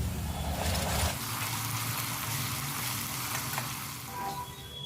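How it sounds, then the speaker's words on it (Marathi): Onion frying with ginger-garlic-green chilli paste in a pan, a dense continuous sizzle with a heavier stirring burst at the start, then steady hissing alone. "मऊ होईपर्यंत आणि ट्रान्सपरंट होईपर्यंत परतून घेऊयात"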